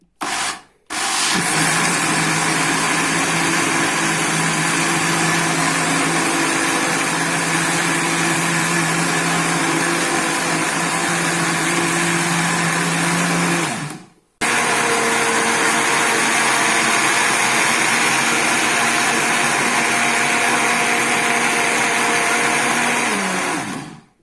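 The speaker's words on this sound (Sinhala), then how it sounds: "ඊළඟට අපි මේක දැන් බ්ලෙන්ඩර් කරගමු." Electric blender whirring through hopper batter, a steady loud motor drone with grinding rub, running in two long stretches separated by a brief pause, no talking.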